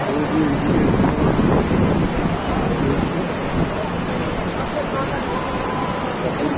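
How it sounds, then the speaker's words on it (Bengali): The Ganges flowing past Gangotri ghat among mountains, a steady broadband rush of water mixed with wind buffeting the microphone, continuous and loud throughout. "সুন্দর জায়গাটি চারিদিকে পাহাড় গঙ্গা বয়ে চলেছে"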